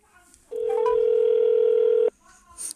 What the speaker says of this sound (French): Ça sonne à l'Illinois.